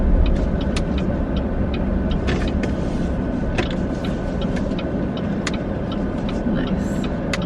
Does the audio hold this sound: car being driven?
yes